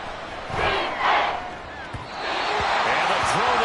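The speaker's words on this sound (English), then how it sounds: "This crowd turning up the decibel level." A stadium crowd roars steadily in a Madden 24 American football game, a broad loud wash that swells during a defensive sack and holds throughout, with faint thumps beneath.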